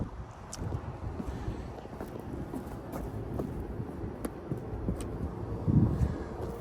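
Strong wind blasting across a TPO membrane roof during a roof inspection in Ashland, Hanover, a steady broadband rush and rumble with gusty microphone buffeting that swells heavily near the end, with no talking.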